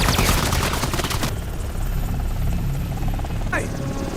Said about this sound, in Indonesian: tiba-tiba muncul sebuah helikopter.